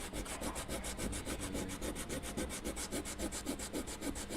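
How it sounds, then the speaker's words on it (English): Rapid, rhythmic rasping of sandpaper rubbing back and forth on a wooden sound hole brace of a dulcimer guitar, steady strokes close by and fairly quiet. "I can just do it just with sandpaper."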